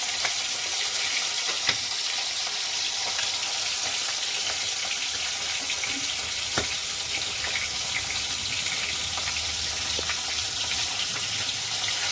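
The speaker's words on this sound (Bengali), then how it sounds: "ইলিশ মাছের মাথাটা এবার ভেজে নেবো" Hilsa fish head frying in hot oil in a home kitchen, a continuous bright sizzle with scattered sharp pops and spits, close and unbroken, no talking.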